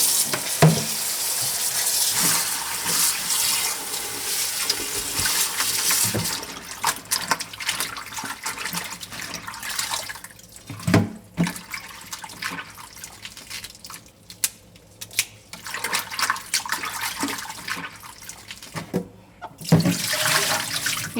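A kitchen tap runs steadily while 8 ounces of bok choy is rinsed under it, a constant close splashing stream with irregular drips and splatters as the leaves are handled, and no voices.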